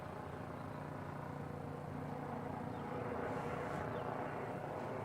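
A helicopter near Christchurch Airport gives a faint, distant steady drone of rotor and engine under broad outdoor background noise, rising slightly toward the end.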